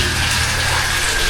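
Tap water runs steadily into a basin for hand-washing clothes, a continuous close splashing hiss with no voices.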